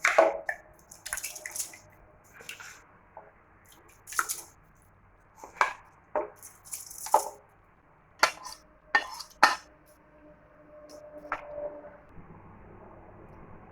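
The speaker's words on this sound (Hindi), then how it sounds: "अब हम चावल को धोकर मेज़रमेंट में लिया हुआ पानी में डाल देंगे।" Washed rice is tipped into measured water in a pressure cooker, heard as scattered wet splashes, drips and metallic clinks of the pot and utensils, close up and intermittent against quiet.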